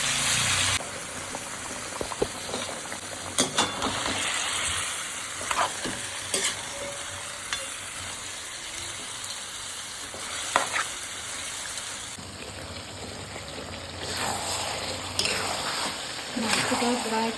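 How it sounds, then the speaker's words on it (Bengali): Chopped onions frying in oil in a pan for chicken kosha, with a steady close sizzle and intermittent scraping stir strokes throughout. "পেঁয়াজগুলো লাল লাল করে ভাজা হয়ে গেছে।"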